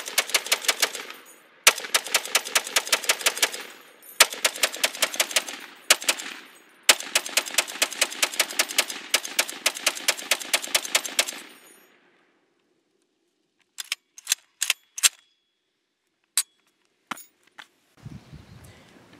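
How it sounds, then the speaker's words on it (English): Close, loud strings of rapid, evenly spaced shots from an Ohio Ordnance Works 1919A4 semi-automatic belt-fed Browning rifle come in several long runs. Scattered single cracks and metallic clinks follow after a brief silence. "we just got through test firing our new Ohio Ordnance Works 1919A4 semi-automatic Browning."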